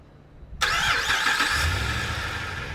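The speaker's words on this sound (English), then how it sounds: "So it remote starts, it starts just like normal" A 2009–2012 Dodge Ram's engine cranks and fires up from a remote start, catching abruptly and then settling into a steady, fairly loud idle with no talking.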